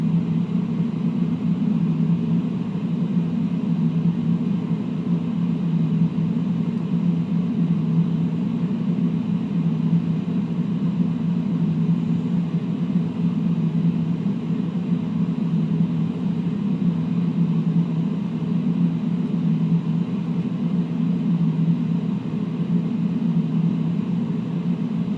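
Boeing airliner rolling down a runway in Flight Simulator X, a steady low engine rumble and tire roar running evenly and fairly loud throughout with no voices.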